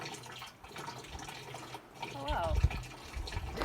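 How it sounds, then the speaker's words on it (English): Water running into a hydraulic ram pump supplying a garden, a steady broadband wash heard close up, with a person briefly speaking over it. "So here is the water going in, and as it runs through."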